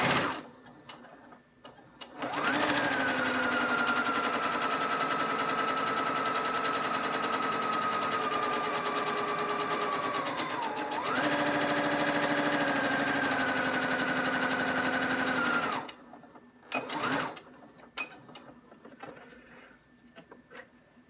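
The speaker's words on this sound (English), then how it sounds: "I'm going to make sure I double stitch this" A Singer 6600C sewing machine runs steadily, double stitching the back seam of a pair of women's capris: a close, continuous motor whir that holds for about eight seconds, briefly pauses and shifts, then resumes for several more before stopping.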